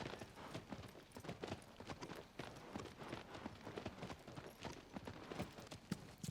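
Horse hooves clip-clop in a quick, steady rhythm along a path as a rider travels through the Shadow of the Colossus game world, the sound moderately close and unaccompanied by speech.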